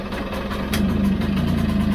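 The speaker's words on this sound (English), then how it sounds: "we'll see how it fires up with the choke on." A Vespa GS scooter engine with the choke on, loud and close, settling into a steady idle hum after a brief start, with no voices.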